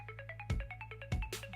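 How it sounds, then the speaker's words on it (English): Ringback tone of an outgoing phone call, a repeating electronic trill in two bursts with brief pauses, faint and heard through a phone, no voices. "See if he answers the phone. It's ringing."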